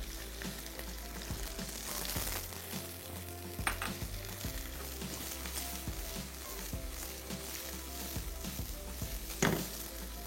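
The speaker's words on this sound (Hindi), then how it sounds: "खूब अच्छे से इसको मिक्स कर लेंगे ताकि फ्लेवर इन तमाम चीज़ों का अच्छी तरीके से एक दूसरे में समा जाए।" Sliced onions, fresh green and red chillies and a cup of boiled peas sizzle and fry in a pan as they are stirred. Scraping and clinks of the spoon against the pan sound throughout, with no talking.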